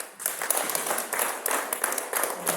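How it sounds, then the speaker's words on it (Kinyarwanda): Guests at a Rwandan wedding introduction and dowry ceremony clap together in approval, a lively, uneven burst of hand claps with sharp individual smacks that runs throughout. "Byemeza niba kumvira amashyi."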